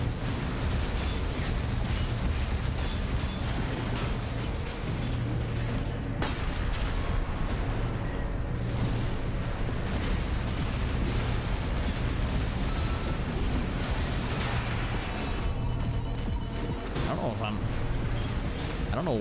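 Missile explosions in the video game Armored Core 6 during a boss fight against Balteus, a dense and continuous roar of blasts and mechanical clanking, loud throughout, with someone talking over it.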